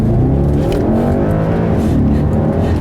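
A 2012 Audi S5 accelerates hard with a loud, continuous engine roar and rising revs, heard close from inside the car with no talking.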